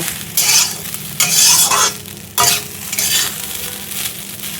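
Rice with onion, egg, carrot and beans being stir-fried in a pan: loud bursts of sizzling and scraping strokes come in uneven waves over a constant hiss, with no talking.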